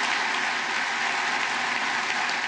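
Steady, dense applause from US senators in the Congress chamber for Greek prime minister Kyriakos Mitsotakis, an even wash of many hands clapping with no voices.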